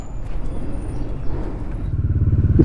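A motorbike engine rattles and clatters close by. A steady low rumble grows louder and more rhythmically pulsing toward the end.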